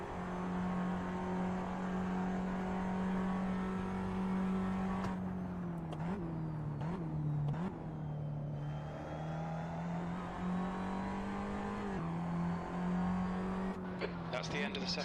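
Close, continuous engine whine from a Tatuus race car in a sim racing session at the Nürburgring, holding a high pitch before several sharp upshift dips and recoveries, with faint talk in the background.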